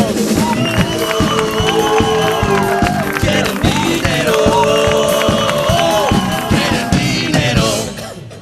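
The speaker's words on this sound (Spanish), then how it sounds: "un gran aplauso para ellos" A crowd at an event on education policy claps and cheers for the arriving economists, with whoops over loud, dense applause, while music with sustained tones plays throughout and fades out at the very end.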